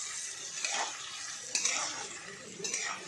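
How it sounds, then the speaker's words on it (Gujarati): Onions roasting in a pan over a very low flame for soya veg pulao give a soft sizzle, with a few light scrapes and clinks of a spoon against the pan. "આ રીતે ડુંગળીને આપણે શેકી કાઢવાની છે।"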